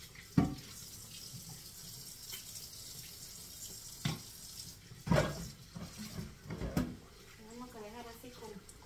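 A tap runs water for washing while a voice speaks in Spanish, with splashes and clatters rising intermittently over a steady low wash of flowing water.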